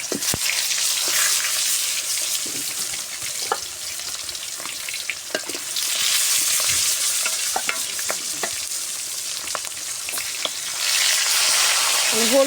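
Pangas fish pieces, rubbed with turmeric and salt, fry in oil in a wok, a continuous loud sizzle with crackling pops and occasional stirring scrapes, no talk.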